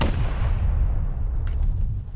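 Explosive ammunition fired in the video game Rust, a heavy, booming blast with a deep rumbling tail that fades, followed by a faint smaller crack near the end; loud and close, no speech.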